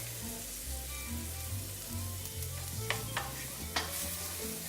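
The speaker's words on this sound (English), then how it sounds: "I'm going to add my roasted garlic." Roasted garlic added to a hot pan of food, giving a steady close sizzle and frying hiss with low stirring scrapes and a few sharp clicks of a utensil against the pan.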